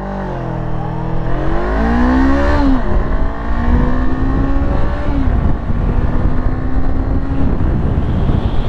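A loud 2018 Honda CB500X motorcycle engine, 47.5 horsepower, revs and accelerates, its pitch climbing steadily and then holding a strong, droning whine.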